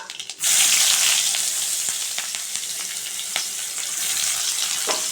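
Chopped onions with black cumin (nigella) seeds frying in hot oil in a wok, a steady close sizzle with faint scraping stirs throughout, no talking.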